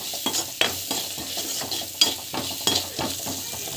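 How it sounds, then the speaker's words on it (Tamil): Upma ingredients with turmeric, including flattened rice, are sautéed in a pan, with a close, rhythmic series of spatula scrapes and stirs over a steady sizzle. "மஞ்சள் போட்டுட்டு நல்லா வந்து வதக்கிட்டுக்கலாம்"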